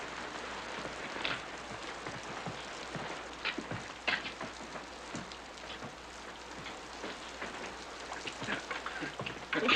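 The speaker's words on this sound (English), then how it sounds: "Looks like the rain's letting up," Steady rain pours outdoors during a storm in an Old West setting, a dense, even hiss of drops on surfaces, moderately loud and unbroken, with no voices.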